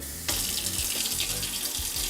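A sensor-activated kitchen faucet switches on abruptly after a quiet moment, then water streams steadily into the sink, close and continuous with faint clunks underneath.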